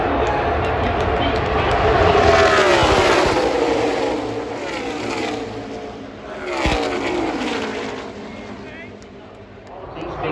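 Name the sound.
NASCAR stock cars racing at Talladega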